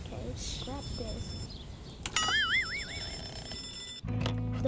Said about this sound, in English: The phone's ringing, I think.